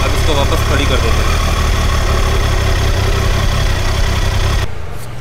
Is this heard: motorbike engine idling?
yes